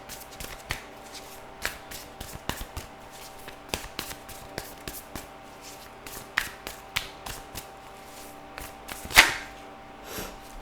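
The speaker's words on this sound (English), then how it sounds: "Just shuffle the cards." Tarot cards are shuffled by hand in a series of sharp riffles and soft taps, spaced irregularly, close and fairly quiet, with one louder snap near the end.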